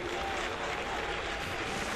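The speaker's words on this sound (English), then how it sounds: "Oh, the golf clap is nice" Polite golf clap from a small group at an outdoor evening event, a steady patter of light applause running continuously and fairly near, with no voices over it.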